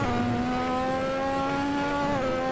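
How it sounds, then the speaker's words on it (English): A Lotus 98T turbocharged Formula One car revs in the Assetto Corsa racing game at Spa Francorchamps. A steady, loud engine drone with strong harmonics holds throughout, rising slightly in pitch, with no voices. "you can hear the turbo"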